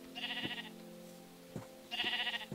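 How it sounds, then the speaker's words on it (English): Sheep in Minecraft bleat twice, each a clear wavering call with a short pause between, followed by soft thuds of in-game movement. "Oh, more sheepies. More sheep."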